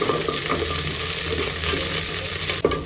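Onion and curry leaves frying with mustard seeds in hot oil for a moong dal curry, a loud, dense, continuous sizzle close up with a single brief knock near the end, no voices.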